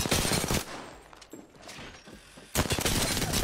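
Gunfire in Apex Legends, with dense rapid bursts of automatic fire at the start and again at the end and a quieter stretch of mechanical clicks and shots between.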